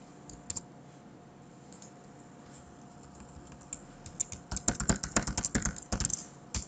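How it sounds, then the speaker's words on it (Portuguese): A computer keyboard clatters with light, sparse key clicks at first, then a quick close burst of several firm presses near the end as Ctrl Alt Del is struck. "E agora se a gente vier aqui, teclado, Ctrl Alt Del."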